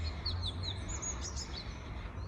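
Birds singing in countryside along the Camino trail, several short chirping phrases and tweets at a moderate distance over a low steady background rumble.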